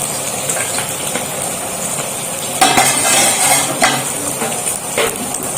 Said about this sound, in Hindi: इधर हमारा कीमा पक रहा है